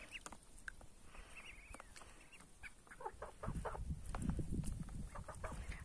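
A hen clucks and squawks as she chases away young ducks in a farmyard, sounding at moderate distance, with the clucking growing busier and louder under a rustling outdoor background.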